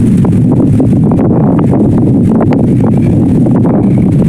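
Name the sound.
strong wind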